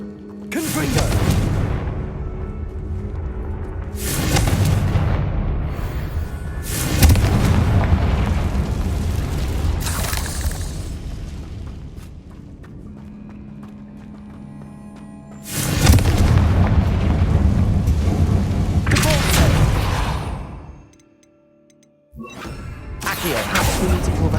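Repeated loud blasts from the Confringo spell in Hogwarts Legacy, several booming explosions with rumbling tails spaced several seconds apart and quieter stretches between them.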